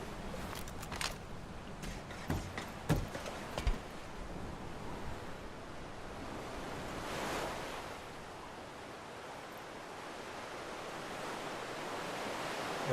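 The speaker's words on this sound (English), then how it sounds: "I'm on the deck of the ship." Ocean waves wash steadily against a ship's deck in Medal of Honor: Above and Beyond, a broad continuous surf roar with wind noise and a few sharp knocks in the first few seconds.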